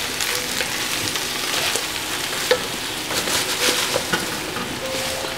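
Garlic frying in a pan with spinach waiting to go in, a steady close sizzle broken by scattered light scrapes and taps of a utensil being stirred, with no talking.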